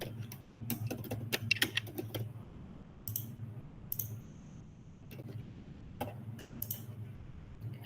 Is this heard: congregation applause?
no